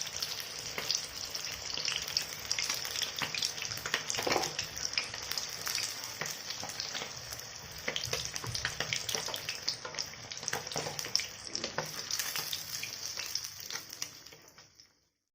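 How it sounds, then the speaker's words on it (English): Fish fries in hot oil in a pan for an Assamese stinkvine dish, a steady close sizzle and crackle broken by occasional stirring clatters, then fading out at the end. "You don't need to over fry the fish because we will be cooking it again."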